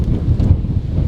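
Strong wind buffets the microphone outdoors, a loud, rumbling gust that stays steady throughout the short moment, with no talk.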